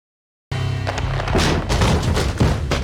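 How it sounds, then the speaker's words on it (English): Bombing explosions in the video game Max Payne, a burst of deep booms and thuds starting abruptly, then repeated heavy blasts and rumbling impacts close and loud. "They're bombing us."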